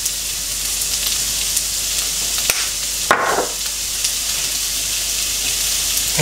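Black pepper, thyme and oregano are tossed in a pan over high heat, sizzling and crackling steadily up close, with a brief scrape and stir around the middle and no talking.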